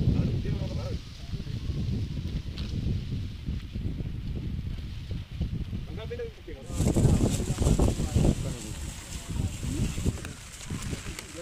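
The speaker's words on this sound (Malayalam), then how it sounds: "നല്ല കാറ്റടിക്കുന്നുണ്ട് ഇവിടെ." Strong wind gusts beside a flooded river in Kozhikode, Kerala, buffeting the microphone in uneven rushes that swell louder past the midpoint, with a person talking over it.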